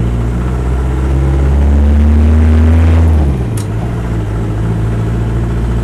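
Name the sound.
Land Rover 90 2.5 diesel engine starting and idling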